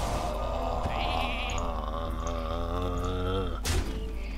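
A cartoonish sheep bleats in the Hearthstone card game, one long wavering bleat over steady game background sound, ending in a short bright effect.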